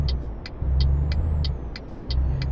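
A truck engine in the Euro Truck Simulator 2 game hums low and steady. A rhythmic, evenly spaced ticking like a turn signal sits over the rumble, close and moderately loud with no talk.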